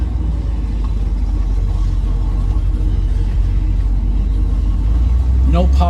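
A 1967 Pontiac Firebird drives and makes a U-turn, its engine a steady close low rumble under someone talking throughout.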